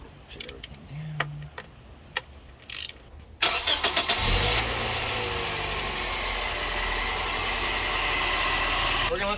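A 1st-gen Scion xB fitted with an Injen short ram cold air intake starts up and settles into a steady idle. The engine runs loud and close after a few quiet knocks and shuffles.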